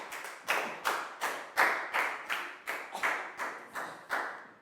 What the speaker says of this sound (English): Big round of applause for Chew